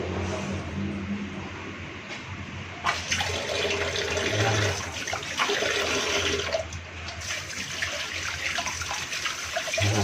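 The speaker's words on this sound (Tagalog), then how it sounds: "Malakas yung tubig." Water gushing hard from a newly tapped PPR pipe water line, a strong continuous rushing splash that surges louder in bursts, close by with no speech.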